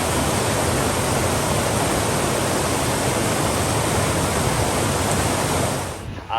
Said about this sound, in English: We're going to be following the French Broad River.